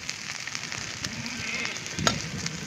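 Stuffed okra fries with mustard seeds on a hot tava, a faint, steady sizzle with a few soft crackles and a brief louder pop.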